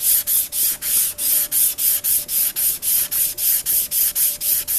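An old paring knife stroked back and forth on a sharpening stone, a steady run of about eighteen rhythmic hissing scrapes, close and clear, with no talk.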